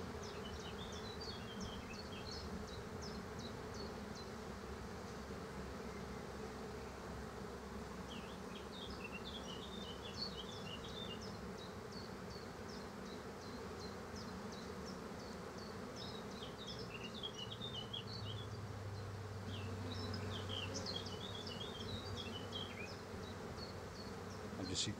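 Steady insect buzzing from a large swarm of honey bees being hived, a continuous close hum with birdsong chirping above it throughout; no talking.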